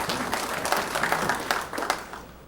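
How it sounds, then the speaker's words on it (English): A crowd at a 9-ball pool championship breaks into applause, a moderately loud patter of many hands clapping with uneven sharp peaks that fades toward the end. "Well, you're going to hear some applause here."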